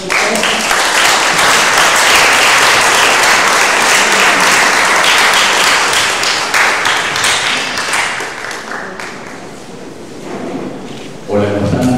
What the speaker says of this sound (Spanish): Un aplauso para nosotros.